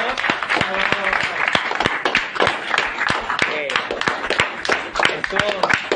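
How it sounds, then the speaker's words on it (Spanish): Audience applause at the close of a show episode: dense, steady clapping that runs throughout, with voices talking over it. "Fuerte el aplauso, por favor"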